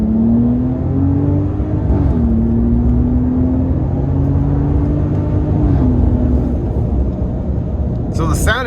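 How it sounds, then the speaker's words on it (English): A 2025 Ram 1500 RHO pickup truck pulls hard under acceleration, its engine droning loudly and rising steadily in pitch, dropping briefly at gear shifts before climbing again, heard close from inside the cab with no talking. "So the sound it makes when it shifts is great."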